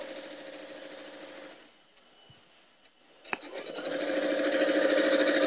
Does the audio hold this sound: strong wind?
no